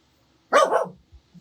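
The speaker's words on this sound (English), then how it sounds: "You've barked in my ear 3 times now." A single sharp dog bark, close and loud, a burst of about half a second that trails off, followed by faint low thumps in an otherwise quiet room.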